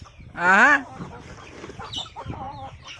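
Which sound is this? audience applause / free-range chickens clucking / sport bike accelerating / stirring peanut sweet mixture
free-range chickens clucking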